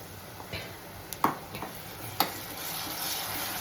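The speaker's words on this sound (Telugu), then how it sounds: "ఇప్పుడు చూడండి, నేను ఈ పేస్ట్ వేస్తున్నాను. అల్లం వెల్లుల్లి కొబ్బరి పేస్ట్ అండి." Ginger, garlic and coconut paste hits softened onions in a pan, a steady close sizzle and fry with a few sharp clinks of stirring.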